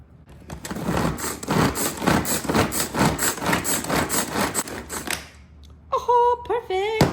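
A knife saws leftover apple flesh off the core in a steady series of close, scraping strokes for about five seconds, followed by a brief spoken voice.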